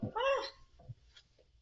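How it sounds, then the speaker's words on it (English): A pet cat gives a loud meow up close, followed by a couple of faint shorter sounds and then quiet room tone. "not my cat opening up the door again"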